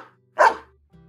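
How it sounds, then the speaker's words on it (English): A dog gives a single sharp, excited bark at a training ground, loud and close, followed by a brief low trailing sound in otherwise quiet surroundings. "Before you could reach the center of the training ground, Benji starts barking with excitement"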